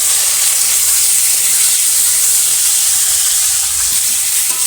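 Constant bright hiss and sizzle of food frying in hot oil, steady and fairly loud with no voices.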